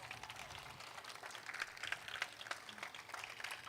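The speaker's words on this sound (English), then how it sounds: "Can we give Mayor Brandon Johnson another round of applause?" Faint, distant applause from guests at an anniversary gala in Chicago, scattered clapping spread through a large room at low level.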